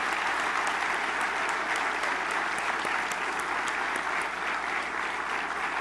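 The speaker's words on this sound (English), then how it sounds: "I'd just like to recognize all of you who came by each of us giving each other a round of applause." Guests at an opening night welcome celebration give one another a round of applause, a thick, sustained clatter of many hands clapping at steady volume throughout, with a few sharper individual claps standing out.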